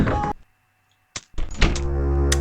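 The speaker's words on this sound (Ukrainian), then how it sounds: "Перезарядка." A weapon reload in the video game Alisa comes through as a few sharp mechanical clunks and clicks, split by a brief silent gap, then a denser metallic rattle.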